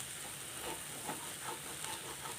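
A pan of banana flower thoran with scrambled egg being stirred, giving a soft steady sizzle with faint scraping and light ticking of the spoon, quiet and continuous.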